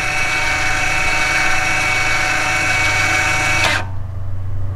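A Mercedes CLA/GLA electric rear brake actuator motor retracting gives a steady, close mechanical whir with a constant buzzing tone for nearly four seconds, then cuts off abruptly into near silence.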